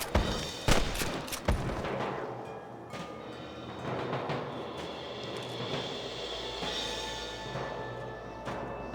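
Gunfire from rustlers in the Red Dead Redemption video game, sharp shots cracking out near the start and around two seconds, then scattered pops over a busy rumbling background of game ambience.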